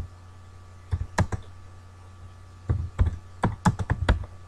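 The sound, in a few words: typing a Word document on a computer keyboard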